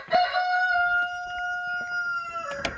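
A barnyard rooster on a homestead gives one long, loud crow close by, the call held steady and then breaking off into a rough ending, with no voices around it.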